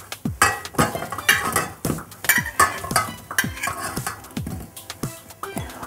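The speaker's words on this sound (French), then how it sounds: "On dispose maintenant nos fruits dans une casserole." Pieces of apple and pear drop one after another into a saucepan with soft, irregular thuds and clinks, close up in a quiet kitchen.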